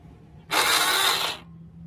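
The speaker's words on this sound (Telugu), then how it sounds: "సెల్ఫ్ కొట్టి స్టార్ట్ చేసే మూమెంట్లో ఈ సౌండ్ గమనియండి." Honda Dio scooter self-starter making an abnormal noise: a single harsh, grinding ratchet-like whir about a second long, loud and close, set against a quiet, faint background hum.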